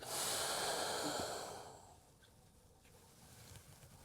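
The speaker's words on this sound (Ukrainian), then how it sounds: "Видих. Вдих." A person breathes out and then in during a core and posture exercise, a long soft exhale that fades into a quieter, gentler inhale, close and alone.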